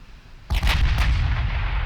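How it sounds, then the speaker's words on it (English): Warship main guns firing in the Ultimate Admiral Dreadnoughts naval game, a sudden heavy artillery blast followed by a second boom and a long rumbling roll that keeps booming on after the shots. "Let's get all the guns firing."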